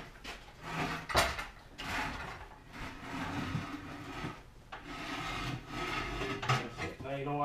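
A pry bar from a manual Harbor Freight / Princess Auto tire changer gets set down with a couple of dull clunks amid scraping and rubbing of rubber and metal, close and moderately loud.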